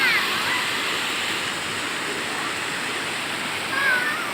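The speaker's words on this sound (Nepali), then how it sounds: "सरर बगेको झरना छ" A waterfall flows near a Shiva temple, its steady rushing hiss filling the air evenly, with a couple of faint high chirps riding briefly above it.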